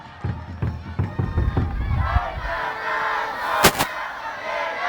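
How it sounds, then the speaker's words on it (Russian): Football supporters in a stadium during a tournament final, with rhythmic chanting and clapping bursts that fade into a broad crowd roar, accompanied by a commentator speaking throughout. "Да, только Кант, только победа, кричат болельщики Абдушаты."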